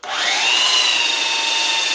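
A power sander works a large wood cross section with a steady, loud high whine that holds constant and alone for the full two seconds, with no break in pitch or level.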